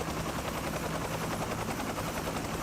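Military helicopter in an action film, a steady loud rotor chop throbbing continuously throughout, with dense broadband noise and no voices over it.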